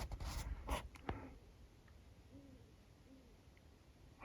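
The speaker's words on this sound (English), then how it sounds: "I hear a hoot owl." An owl hoots outdoors at dawn during an October deer hunt, two soft hoots spaced about a second apart, faint and distant against quiet ambient noise after some brief close rustling.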